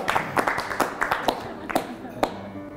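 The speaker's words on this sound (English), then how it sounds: "Insert applause here." A few people clap in loose, uneven bursts after a number-prediction magic trick, close by, with voices chattering between the claps.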